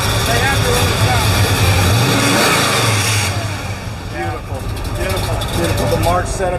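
Car with a 3-inch exhaust at a car show, a deep engine rumble and revving that swells and eases over several seconds, with people talking nearby over the noise.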